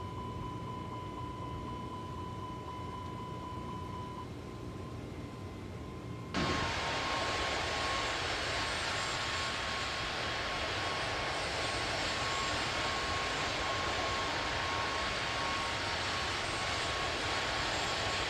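Simulated Airbus A320 engine roar in Microsoft Flight Simulator 2024, a steady broadband cockpit drone that turns abruptly louder and fuller partway through and then holds constant, with no talking.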